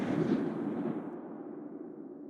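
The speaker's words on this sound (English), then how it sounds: "gunners manned the large deck cannon and opened fire" A heavy boom from a submarine's large deck cannon firing shells, with a long rumbling decay, fading over a couple of seconds, no voices.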